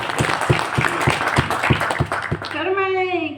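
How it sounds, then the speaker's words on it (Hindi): A crowd at a marketing training program claps in rapid, loud bursts for a couple of seconds before a voice starts speaking over the fading applause. "एक बार जोरदार तालियां।"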